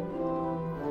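A principal stop on the Positiv division of a church pipe organ at Christ Lutheran in Baltimore holds a steady, rich pitched tone for under a second, alone and moderately quiet.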